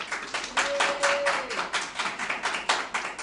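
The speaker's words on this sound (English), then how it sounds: "It's not canned applause, it's real people" A live studio audience at a quilting show claps steadily, with irregular rhythmic bursts of hands throughout and a faint brief tone in the background.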